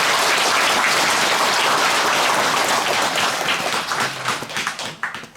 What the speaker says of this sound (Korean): 귀한 말씀을 해주신 덕조 주지스님께 다시 한번 감사의 큰 박수 부탁드립니다.